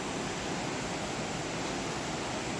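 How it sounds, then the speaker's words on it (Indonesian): Babbling river water and surrounding nature sounds at a resort in Ubud, Bali, heard as a steady, broad rushing hiss that stays even and continuous throughout, with no voices. "Jadi terdengar suara alam dan gemericik air sungai."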